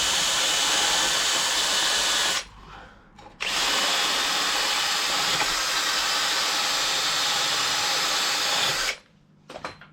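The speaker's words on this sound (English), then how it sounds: "And then same as always, bit of brake clean." Brake cleaner sprays in long, loud, steady hissing bursts onto the front brake hub of a Ford Puma, with two short pauses between blasts.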